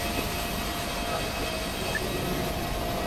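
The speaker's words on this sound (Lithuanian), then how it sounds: "Oras geras, lėktuvai skrenda." Airplanes flying overhead, heard as a steady, distant engine roar that holds level throughout with no talk.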